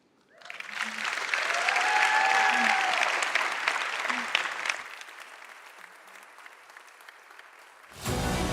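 Audience applause at a livestreamed investment conference in Miami, a loud sustained round swelling over the first few seconds, tapering off, then picking up again briefly at the end.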